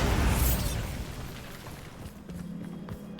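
A Bombarda blasting spell goes off in Hogwarts Legacy as a loud, booming burst that quickly decays into a rumbling tail, followed by a low sustained hum.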